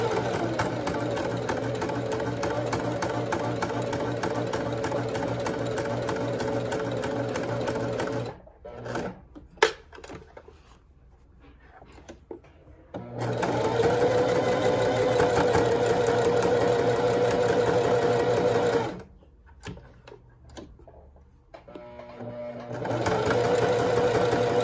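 Sewing machine stitching a small, fine seam around the edge of a patchwork pot holder, a steady loud mechanical whirr running in long stretches, stopping twice for brief quiet pauses with faint handling before resuming.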